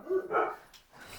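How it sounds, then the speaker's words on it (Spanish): Dogs barking in a brief sharp burst of two or three barks at moderate distance, fading into a quiet room afterward. "Tengo 2 perros."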